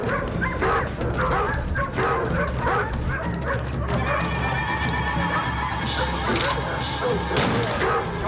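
Several dogs bark repeatedly with yips and whimpers amid a busy, noisy scene, with people's voices mixed in.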